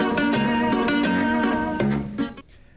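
A zither plays bright plucked notes ringing in a steady melodic rhythm, close and clear with no talk, fading out at the end.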